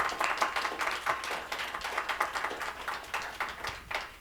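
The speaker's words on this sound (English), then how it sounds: "If you would join me in giving our panel a round of applause." An audience applauds a panel at the close of a discussion on North American trade and the USMCA, with steady clapping from a moderate crowd in a hall that fades slightly near the end.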